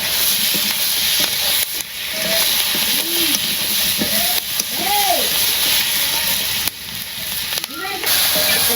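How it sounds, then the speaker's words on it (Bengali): Vegetables sizzle and hiss steadily in a hot pan on a home village kitchen stove, a continuous loud frying noise with a voice speaking over it in places. "এটা একটু কষে নিই"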